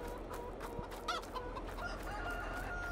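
Chickens in the Farming Simulator 22 video game cluck and crow on a farm, moderately faint over a steady ambient background, with a clear crowing call near the middle.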